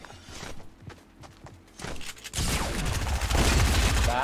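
Shotgun and SMG gunfire in Fortnite, scattered sharp shots at first, then a sustained loud burst of rapid fire and impacts that dominates the second half.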